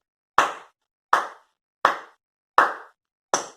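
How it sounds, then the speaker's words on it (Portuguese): Five evenly spaced, sharp claps, each loud and close with a quick decay and silence between them, heard alone without voices. "Palmas para o Senhor."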